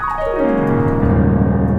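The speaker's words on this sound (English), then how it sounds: "It's just a swiping motion of the keys." A piano glissando sweeps quickly downward across the keys, ending in a sustained, ringing wash of low notes.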